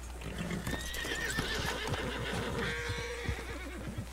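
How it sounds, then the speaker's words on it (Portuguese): Horse in the video game Red Dead Redemption 2 whinnying and snorting nervously near gunfire, with repeated clip-clop hoof steps and a low engine-like hum underneath, all fairly close. "Tem um cavalo ali, galera."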